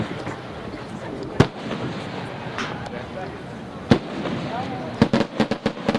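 A 6-inch streamer firework shell with a hand-rolled bottom shot bursts at an outdoor fireworks convention, with two sharp booms, then a quick rattling string of cracks and pops near the end, over steady crowd noise and voices.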